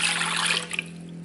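Cold water pouring into a juicer, a short splashing gush that tapers off quickly.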